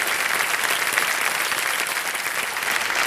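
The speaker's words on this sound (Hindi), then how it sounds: "जोरदार तालियां इनके परिवार के लिए और जिनसे इनकी बात हो सकी" Studio audience on a televised quiz show clapping loudly and continuously, a dense wash of applause from a large crowd filling the whole stretch without voices over it.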